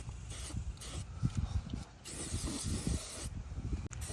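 Enamel spray paint hisses out in short light passes close by, soft bursts of spray broken by brief pauses, with faint rubbing and handling noises between them.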